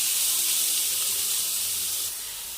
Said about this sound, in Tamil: இதில் நம்ம துருவி எடுத்துக்கிட்ட கேரட் ஆட் பண்ணிக்கலாம்